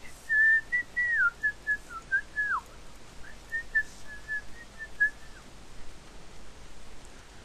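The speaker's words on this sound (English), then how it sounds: "Sorry, but I like whistling." A person whistles a lively tune in two rising and falling phrases, clear and fairly close, during a RuneScape player-killing session, with no talk over it.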